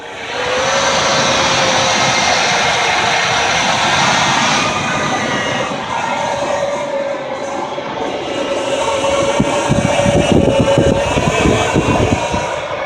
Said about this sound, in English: so I'm not even touching the gas and it's idling a little rough